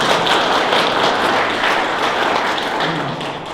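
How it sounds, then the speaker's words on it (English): An audience applauds at a community electorate forum, giving a dense burst of clapping from many hands that stays loud and steady, then eases slightly toward the end, with no talk over it. "Let's give her a clap for a second."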